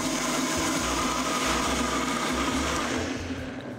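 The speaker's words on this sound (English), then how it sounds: "I'll start with a low speed so it doesn't come flying out of the blender" A blender whirs steadily while blending a salad dressing with olive oil being added, a continuous loud motor drone with a low pulsing hum that eases slightly toward the end.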